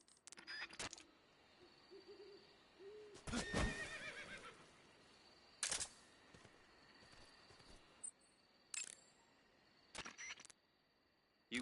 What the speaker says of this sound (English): You just heard a horse?